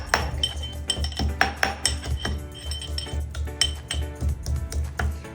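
Garlic being coarsely crushed, thumped repeatedly in quick uneven strokes with sharp metallic clinks, close and fairly loud, with no talking.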